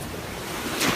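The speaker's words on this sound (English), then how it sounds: "I see a large wave coming now." A large ocean wave rolls in over a steady roar of surf and wind, then breaks with a louder, brighter wash near the end; no one speaks.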